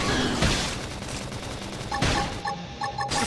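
Gunfire bursts in the Xenoblade Chronicles X video game, rapid shots clustered near the start and a quick run of sharp repeated blasts toward the end over steady game background noise.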